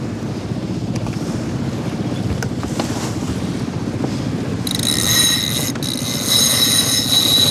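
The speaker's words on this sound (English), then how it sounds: "But let me first open the jib." A Beneteau First 27 sailboat at sea with its jib being unfurled, heard as steady wind and water rush against the hull, with a brighter hiss and rattle of rigging joining halfway through.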